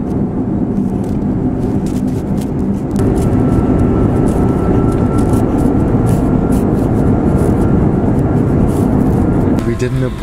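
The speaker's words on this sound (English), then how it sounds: "We did an aborted landing." Cabin roar of a British Airways Boeing 747 during an aborted landing, a loud sustained engine rumble that swells partway through, with a voice speaking over it.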